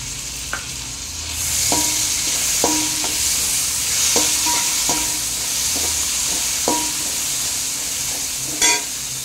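Tomatoes and onions fry in a pan for chicken fried rice biryani under a soft steady sizzle, with a spatula scraping in about eight regular strokes, close by.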